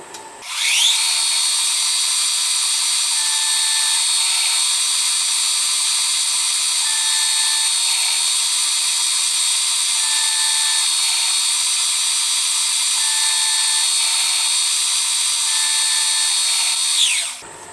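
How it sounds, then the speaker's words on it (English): A milling machine drills steadily into metal cylinder covers for a Stuart Turner No. 8 mill engine with a continuous high-pitched whine, starting and stopping cleanly with faint rhythmic chirps throughout. "we'll drill the first one"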